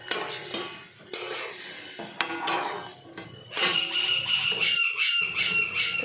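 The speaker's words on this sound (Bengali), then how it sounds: "আর আলুটাও আমি এবার ওই ঝোলে দিয়ে দিই, কষাবো।" Potatoes and cauliflower go into a simmering spice gravy and are stirred in a pan, giving sizzling, bubbling sounds with repeated scrapes and clinks of a spatula against the metal pan, loud and close, without talk.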